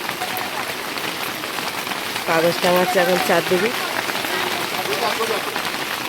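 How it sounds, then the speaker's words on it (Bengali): Heavy rain pours steadily on surfaces outdoors, a dense, loud hiss with drips, while someone talks over it partway through. "ফের প্রচণ্ড বৃষ্টি এসে গেল, ভিজে ভিজে কীভাবে রান্না করবো।"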